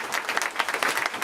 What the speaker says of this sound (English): Round of applause for this incredible group of